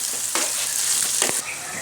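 Beef brain (maghaz) fries on low heat in a pan with a steady, close sizzle and a couple of brief stirring scrapes.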